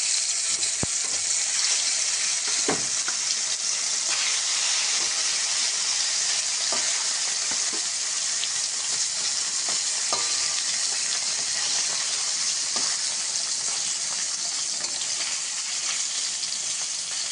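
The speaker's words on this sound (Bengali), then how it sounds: "মাছটাকে ভেজে নেব।" Loud, continuous sizzling of koi fish frying in mustard oil, with scattered pops and crackles throughout and no talking.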